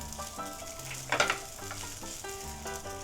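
Steady sizzling of rice frying in a hot pan used for grilling beef, with a brief scrape of stirring midway, under soft background music.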